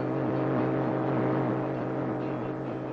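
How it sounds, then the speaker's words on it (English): Soviet radio jamming noise aimed at Radio Free Europe broadcasts, a dense continuous roar with a warbling, cycling low hum, steady and moderately loud throughout. "It is the sound of jamming."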